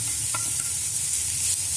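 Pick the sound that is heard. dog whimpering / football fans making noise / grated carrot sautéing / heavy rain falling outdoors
grated carrot sautéing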